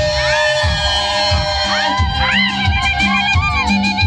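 Women ululate at a wedding with high, wavering trills rising and falling over one another, carried above a noisy, cheering crowd throughout.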